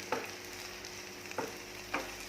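Vegetarian crispy fried shellfish-style pieces in a tapioca-starch batter sit frying in oil in a pan, giving a soft, steady sizzle broken by three light scraping taps, with no voices.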